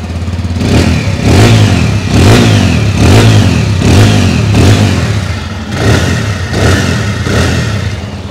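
A 2024 TVS Apache RTR 160 2V motorcycle in all-black edition runs with a steady, loud engine drone, pulsing in repeated rhythmic surges as it revs, close up with no voices.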